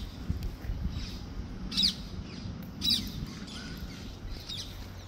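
Short bird chirps and calls come at intervals over a quiet park background, light and somewhat distant.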